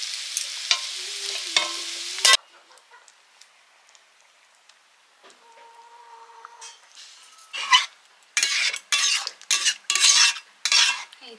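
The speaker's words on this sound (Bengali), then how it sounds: "উচ্ছে ভাজাটাও হচ্ছে" Bitter gourd frying in a pan gives a loud, dense sizzle at first, then drops to a faint simmer before rising again in several strong bursts of sizzling and stirring near the end.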